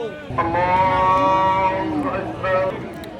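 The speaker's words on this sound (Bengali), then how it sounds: "এই যে পাশে আছে অসংখ্য গরু হাটে আমদানি" A bullock lets out a long, drawn-out moo, followed by a shorter second one, over a busy crowd murmur at an outdoor cattle market near the border.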